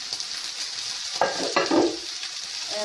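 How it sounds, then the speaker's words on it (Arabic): A spoon stirs fried onions and meat in a pot for Iraqi kibbeh, with a steady sizzling hiss and a few scraping strokes partway through, close and alone. "هسه راح ارجع اقلبه قدامكم لحتى تشوفون شكله شلون صار"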